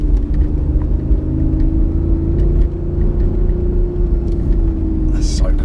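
A BMW i8's 1.5-litre three-cylinder engine, shared with a Mini, hums in a loud, steady drone heard close by, its pitch holding fairly even throughout.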